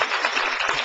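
Brief burst of studio audience applause on a Korean television talk show, dense steady clapping throughout with no talk.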